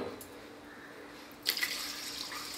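Water pours into a rice cooker for chicken biryani, a short splashing gush that starts abruptly after a quiet stretch and settles into a softer trickle.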